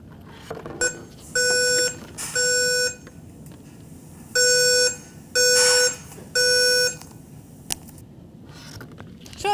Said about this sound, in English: Or should we stay and continue working because it's yet another false alarm?